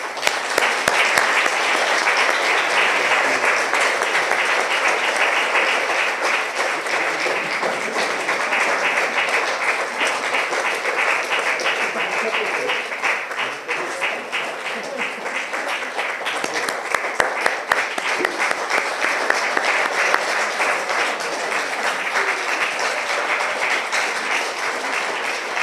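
A ceremonial audience at an arts academy's public session gives sustained, dense applause that holds steady for about twenty-five seconds without pause.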